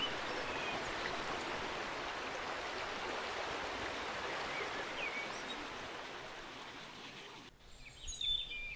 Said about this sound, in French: Le petit ruisseau qui coule dessous